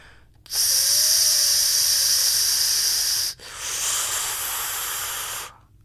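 A voice imitates the hiss of a Russell's viper, a long, loud, breathy pressure-cooker-like whistle lasting about three seconds, then a second, softer hiss after a short break. No words are spoken.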